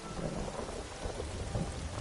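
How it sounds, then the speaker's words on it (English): Steady heavy rain hisses continuously with low rumbling thunder beneath it, a dense, even downpour with no voices. "It's so rainy."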